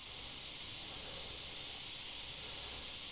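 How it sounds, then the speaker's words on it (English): Inexpensive airbrush spraying paint for fine-line detail work, a soft continuous airy hiss, close and fairly quiet, steady throughout with no voices. "considering this isn't a very expensive airbrush at all"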